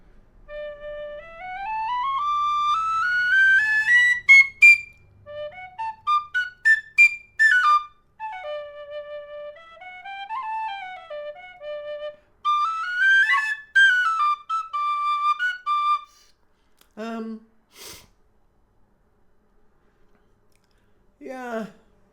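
A Lir D tin whistle plays a bright, clear melody of sliding runs and quick ornamented notes, loud and close, pausing into silence before a few short final notes.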